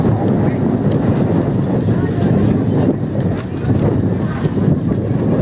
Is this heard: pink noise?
no